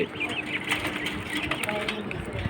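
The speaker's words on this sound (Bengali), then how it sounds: "আমার এই শখের কোয়েল পাখি 10-11 পিস কোয়েল পাখি আছে।" Quails call and coo softly in short repeated notes, with people talking nearby.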